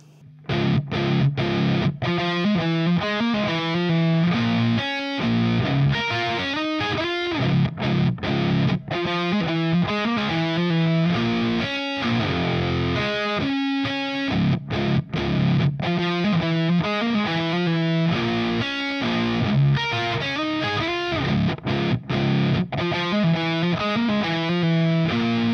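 Distorted electric guitar plays a riff slowly, a steady, loud stream of overdriven chords and notes lasting the whole stretch with short gaps between phrases and no talking.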